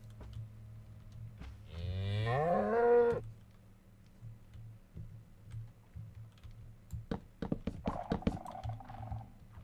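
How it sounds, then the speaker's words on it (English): A cow in Minecraft lets out one loud, wavering moo lasting about a second, followed later by scattered clicks and clatter, with game ambience humming underneath. "have a cow over here that is a comedian, apparently."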